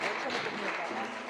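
A worship congregation applauds in a brief, steady wash of clapping at an evening church service, with a voice sounding over it.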